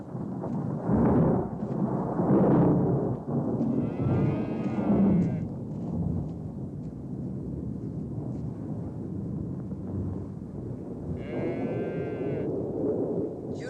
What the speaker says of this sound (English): Kurt, the thunder's frightening the oxen.